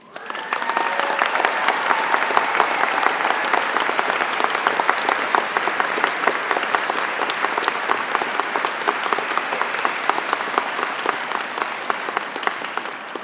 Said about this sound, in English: Please join me in a round of applause for Beverly O'Connor